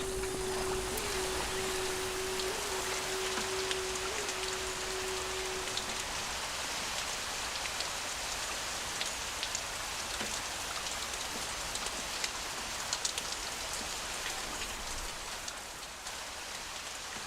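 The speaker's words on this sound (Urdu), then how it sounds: "یہ بارش یعنی 7 سال فراوانی نعمت کا آغاز ہو گیا ہے" Steady rain falls in a dubbed historical drama, a dense continuous hiss of drops on surfaces that stays even and fairly loud throughout, with a faint low tone in the first few seconds and no voices.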